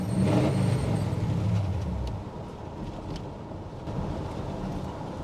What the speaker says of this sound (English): This thing does a mean burnout though.